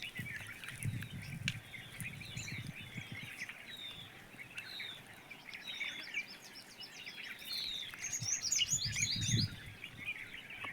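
Many small birds in a tree chirp and twitter in quick, overlapping high calls, a busy flock close by, with soft low rustles and thumps underneath.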